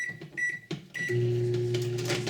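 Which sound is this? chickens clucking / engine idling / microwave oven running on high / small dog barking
microwave oven running on high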